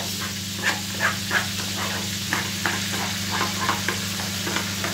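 A spoon stirs meatball sauce with tomato in a hot pan, giving a steady sizzle with soft, regular scraping strokes and no talk.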